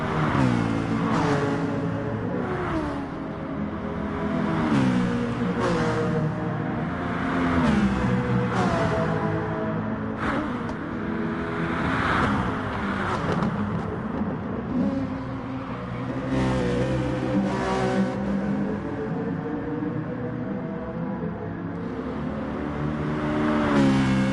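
GT3 race cars lapping the Dragon Trail Seaside circuit in a racing game, engines revving and climbing through gear changes, a steady rising and falling howl with shifts repeating over the lap, no talk.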